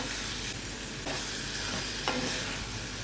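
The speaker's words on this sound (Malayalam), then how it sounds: "തക്കാളിയും മഞ്ഞൾപ്പൊടിയും ചേർത്ത് 1 മിനിറ്റോളം വഴറ്റിയതിന് ശേഷം" Tomato and turmeric sizzle in hot oil for Kerala drumstick theeyal, a steady close frying crackle broken by a few soft scrapes of the spoon as the mixture is stirred.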